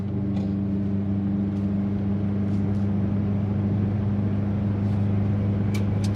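A Skoda 105S engine labours up a steep hill in third gear, a steady low drone with even harmonic hum and faint rattles, heard close from inside the car.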